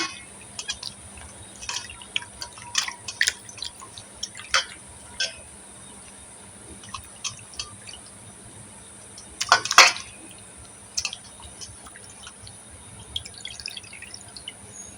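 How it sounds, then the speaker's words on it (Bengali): Rohu fish being rinsed with water in a bowl: faint, sparse drips and small splashes scattered over a quiet background, with one slightly louder splashy burst midway and no talking. "এবার মাছগুলো একটু ভালো করে আমি ধুয়ে নিচ্ছি"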